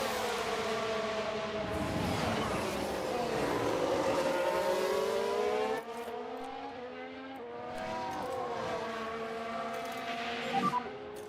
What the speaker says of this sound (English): Is there a problem with Vettel's car?